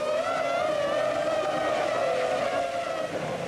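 Formula One cars from the 2000 season howl off the grid at the race start, a loud sustained engine scream with rising, overlapping tones.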